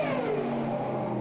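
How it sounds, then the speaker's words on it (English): Supercharged Pro Alcohol drag car at Sydney Dragway winding down after its run, a loud, close, descending whine and rumble that stays steady through the short stretch, with no clear separate pops standing out. "you can hear the winding down noise as the supercharged pops"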